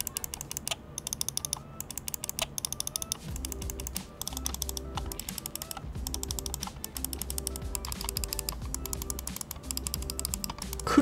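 Side buttons on a gaming mouse, a successor to the Logitech G Pro X Superlight, are pressed over and over in a close, quick series of light clicks with a soft background hum and no voices.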